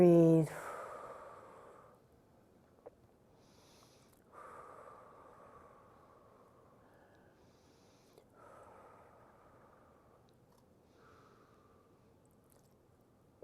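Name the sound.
deep breathing during a yoga pose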